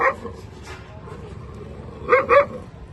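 Four caught stray dogs tied up in a neighbourhood bark nearby in short bursts, one at the start and a louder double bark near the end, with faint yips and background murmur between.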